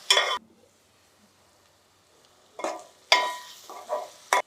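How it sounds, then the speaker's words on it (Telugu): Brinjal pieces being stirred in a hot pan for a chicken and eggplant curry, with several short bursts of sizzling and scraping separated by quiet gaps, close and fairly loud, and no voices. "వంకాయ ముక్కలు ఇలా కోసుకొని చక్కగా వేసేసుకుంటే ఇప్పుడు కాసేపు దీన్ని బాగా మగ్గనిద్దాం"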